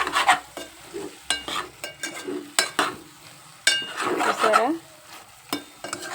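Okra frying with salt and chili is stirred in a pan: sharp spoon scrapes and clinks come in irregular bursts over a soft sizzle, close by, with a brief spoken word in between.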